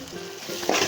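Egg masala with coriander powder, turmeric, garam masala and pepper being stirred in a frying pan, a short burst of soft sizzling with scraping spoon strokes that grow louder near the end.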